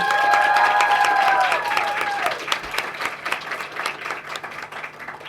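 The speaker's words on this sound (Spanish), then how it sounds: "Un aplauso para Luciana, por favor" An audience at a university literature colloquium applauds a student presenter. Dense clapping starts strong with a few cheers and whistles, then gradually fades out.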